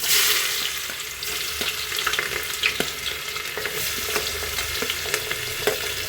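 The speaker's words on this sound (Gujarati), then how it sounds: "હવે ડુંગળી નાખી દઈશું." Onions sizzle in a hot pan after asafoetida is added, a loud, steady frying hiss with scattered crackles and stirring clicks, alone without talk.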